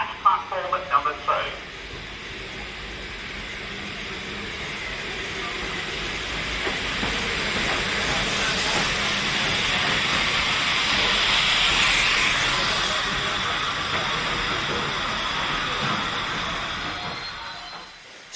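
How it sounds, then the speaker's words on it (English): Steam from a train at a station platform hisses in a long, broad, steady rush that swells and then eases, after a few brief clanks at the start. "Keyscote train, the train now arriving at platform number 2."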